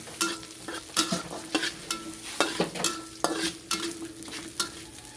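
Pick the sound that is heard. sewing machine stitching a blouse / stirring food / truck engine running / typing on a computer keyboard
stirring food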